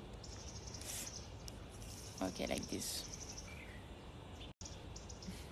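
Birds sing outdoors in calm open air, a few faint high chirps scattered over a soft background hiss, with a brief spoken voice partway through.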